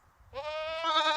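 A young goat bleats loudly and close by in one drawn-out complaining call that rises in pitch partway through, heard during tether training among goats and sheep; no talking.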